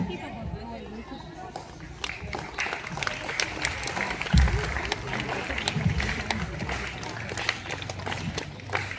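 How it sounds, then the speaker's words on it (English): Audience applause at a school annual day celebration, a steady crowd clapping throughout at moderate level, mixed with some voices and occasional thumps. "I request the audience to welcome them with a huge round of applause"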